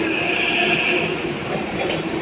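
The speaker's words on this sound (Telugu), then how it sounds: "సో కరెక్ట్గా మెట్రో కూడా వస్తుంది, ట్రైన్ అయితే." A Hyderabad metro train runs past near Musapet, a steady broadband rumble of wheels and rail holding at constant loudness throughout, with no talking.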